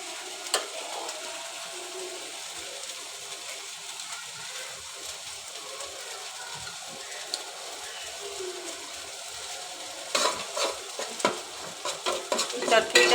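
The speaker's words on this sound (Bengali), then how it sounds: "ভেন্ডি ভাজিটা বসিয়ে দিলাম।" Okra (bhindi) stir-frying in a pan on a gas stove, a steady close sizzle with scattered scraping and stirring clicks that grow louder and busier toward the end, no talking.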